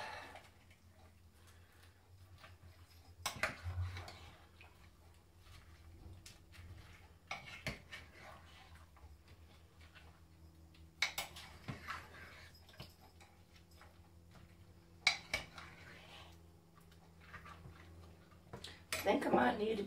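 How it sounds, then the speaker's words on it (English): Metal spoon scraping and clinking in a pot of rehydrating dehydrated vegetables at an evening camp meal, with soft intermittent taps and scrapes under quiet talk. "Just give it a stir up."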